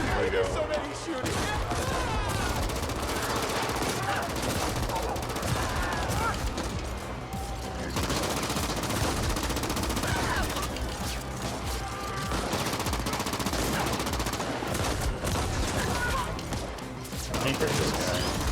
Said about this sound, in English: So many shooting.